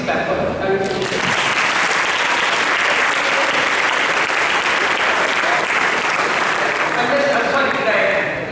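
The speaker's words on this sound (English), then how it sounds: "please clap for her" A seminar audience on public speaking bursts into applause after a brief moment of talk, holding dense, loud clapping for about seven seconds before it starts to thin.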